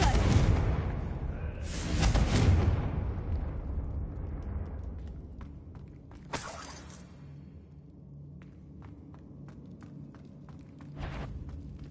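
Confringo blasting spell explosions from the Hogwarts Legacy video game, with a heavy crashing burst at the start, more shattering blasts after it, a sharp crack mid-way and another near the end, plus scattered debris clicks between them.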